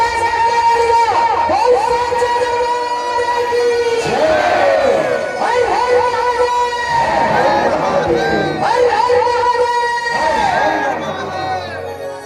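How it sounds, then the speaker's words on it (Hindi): A large crowd at a village youth group's banjo music event in Durg, India, shouts a loud devotional cheer. Voices rise in strong repeated waves and stay close and sustained for the whole stretch. "एक बार जोरदार जयकारा लगाओ"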